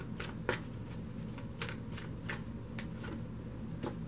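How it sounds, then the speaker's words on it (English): Tarot cards are riffled and shuffled in quick soft bursts, several brushing flutters spaced irregularly over a faint steady hum. "We're going to shuffle."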